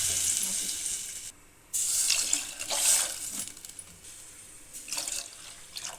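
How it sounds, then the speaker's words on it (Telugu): Water splashes into a pot of soaking rice, pouring close by in several bursts with a brief pause, trickling and dripping between pours. "ఇప్పుడైతే ఎసరపప్పు నీళ్ళు అయితే పోసుకుందామండి."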